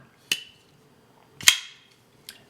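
Sharp metallic clacks of a Shirogorov Custom Division 111 folding knife blade snapping into place, two loud crisp hits followed by a fainter third, close and isolated.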